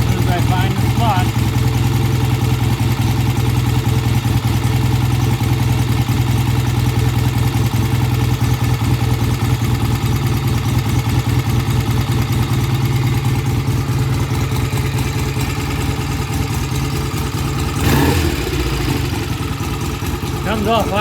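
A vintage British motorcycle engine idles loud and close, with a steady, even mechanical drone throughout and a brief blip of extra throttle near the end.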